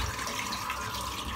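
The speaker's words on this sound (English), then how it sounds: "I'm going to have a hot water splash." Hot water running steadily from a bathroom tap into a sink ahead of a face splash during a wet shave, a brief, even, close rushing stream with no talk.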